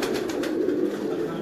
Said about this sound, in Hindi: ऐसे शानदार कबूतर देखने को मिल रहे हैं